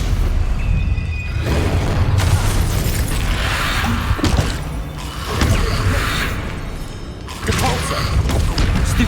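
Stupefy spell cast in Hogwarts Legacy during combat: loud booming magical blasts and crashing impacts in quick succession amid dense game noise.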